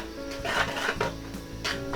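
Salt being stirred into puto cheese batter in a bowl, a few soft scraping strokes with light clinks, close and brief, repeating in an uneven rhythm.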